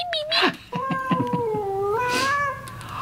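A cat yowls in long, drawn-out, wavering meows, close and fairly loud, with short clicks and rustles at the start.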